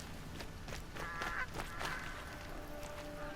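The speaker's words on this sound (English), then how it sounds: "Goose." Goose honking in Horizon Zero Dawn, a few short nasal honks around the middle of the clip over a quiet ambient game background, moderately faint.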